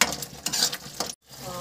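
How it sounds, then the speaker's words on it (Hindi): Masala being fried and stirred in a pan for dhaba-style palak paneer: a steady sizzle with scraping spoon strokes, a brief break of silence, then the frying resumes, close by and with no talk. "मसाला थोड़ा भूनेंगे थोड़ा देर"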